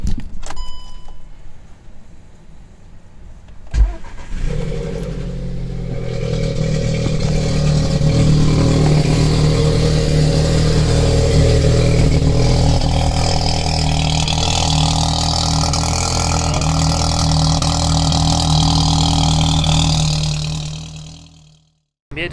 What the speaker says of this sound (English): there's actually two types of cold starts that the Golf does. It does like quite a loud one.